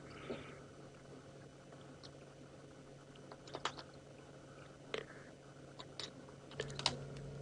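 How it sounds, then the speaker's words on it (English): An animal feeding on a head during an evening safari drive, heard as sporadic wet crunches and bites, faint and fairly distant against a quiet outdoor background with no talk. "that's a head that is being crunched like that."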